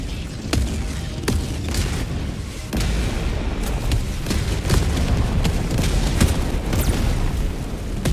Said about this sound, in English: I am beginning to shell their heavy base